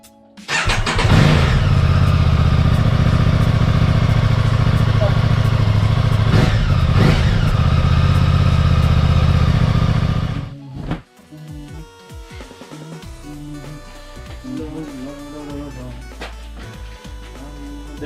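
An Aprilia Tuono 660 motorcycle engine cranks and fires, then runs loud and steady at idle with a brief blip before shutting off about ten seconds in, leaving quieter clatter and faint background sounds.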